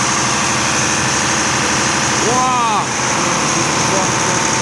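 A six-cylinder diesel generator set powering a town runs steadily close by, a loud, even engine drone with a rapid clattering rhythm, while a voice briefly speaks over it.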